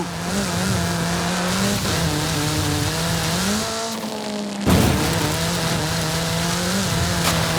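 A car in the video game Forza Horizon 5 drives through the Mexican countryside, its engine humming loud and steady with rising and falling revs. After a brief dip the engine surges again as the car accelerates and corners.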